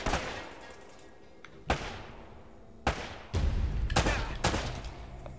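Gunshots ring out in the video game Uncharted: four sharp, loud reports at irregular intervals, each followed by a short decaying tail, with an ambient game rumble between them.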